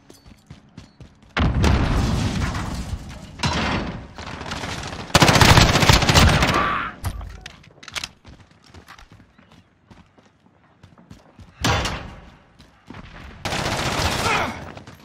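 Bursts of automatic gunfire from Call of Duty Modern Warfare arrive in several loud clusters separated by quieter gaps, with rapid rattling shots and sharp single cracks.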